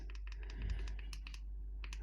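Side buttons on a Google Pixel 9 Pro XL fitted in an official Obsidian case are pressed repeatedly, giving a run of quick, crisp tactile clicks over a low steady hum.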